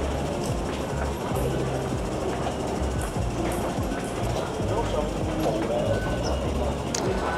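A crowded Hong Kong MRT metro station at rush hour, with a train rumbling and clattering steadily over several seconds. Crowd noise and voices run throughout, mixed in with the rail sound.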